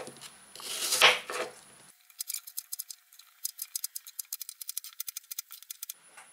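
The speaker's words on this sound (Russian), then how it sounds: "теперь мы все это мелко режем" Rapid, crisp knife taps against a cutting board finely chopping apples, a quick run of sharp chops after a brief rustle, close and fairly loud.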